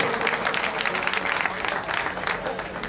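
An audience at a Bahujan Samaj Party gathering claps loudly in a dense, continuous round to welcome Rajya Sabha MP Ram Ji Gautam, with a few voices faintly mixed into the applause.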